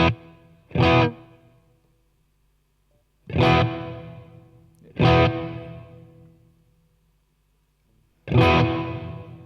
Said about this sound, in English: When you switch it to orange, it becomes the hall reverb.